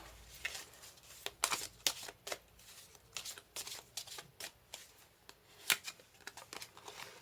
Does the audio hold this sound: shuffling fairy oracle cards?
yes